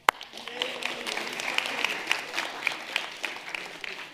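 An audience at a TEDx magic show claps for a volunteer being brought up, a fairly faint, scattered ripple of applause with distinct individual claps, and a voice speaking over it.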